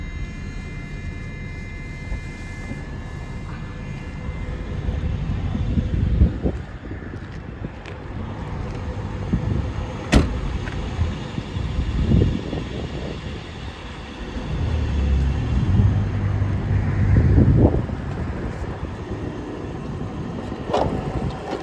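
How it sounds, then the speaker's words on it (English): A red 1993 Jaguar XJS with a 5-speed gearbox idling outdoors after a warm start, a low, smooth engine rumble that swells and eases under gusty wind buffeting and a few handling knocks, heard close by with no talking. "That beautifully smooth running motor."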